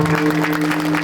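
Audience at a kirtan performance clapping together in a loud, dense burst of applause, with a sustained musical drone beneath.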